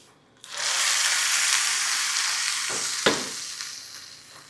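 Hot oil hisses loudly as mustard seeds, curry leaves, red chili pieces and asafoetida hit the pan for a tempering, a sudden burst of sizzle that slowly fades, with a brief clatter near the end.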